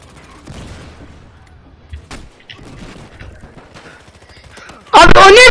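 A sudden, loud burst of rapid automatic gunfire from a weapon in the Battlefield Hardline video game, erupting near the end after a stretch of quiet talking and faint game sounds.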